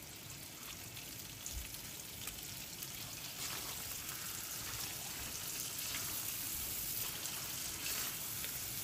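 Shrimp fry with taro in a pan, a steady, soft crackling sizzle that holds evenly throughout with faint stirring, no voices present.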